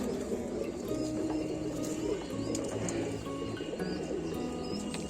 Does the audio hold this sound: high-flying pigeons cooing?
yes